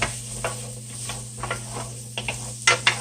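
Food sautés quietly in a pan beside ribeye steaks, Brussels sprouts and seasoned rice, a soft sizzle under a low electrical hum with scattered light ticks and two sharper utensil clinks near the end.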